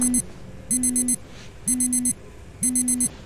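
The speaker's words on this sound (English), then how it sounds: "That's an annoying alarm." An alarm clock rings in the horror video game Dreadout 2, loud repeated electronic beeping bursts in a steady pattern with a low tone underneath, four cycles in quick succession.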